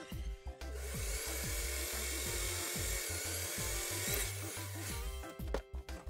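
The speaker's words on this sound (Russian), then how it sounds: "Наметил центр, можно теперь и сверлить." A drill grinds steadily through stainless steel, a continuous high whine with rapid rhythmic chatter underneath, stopping abruptly near the end.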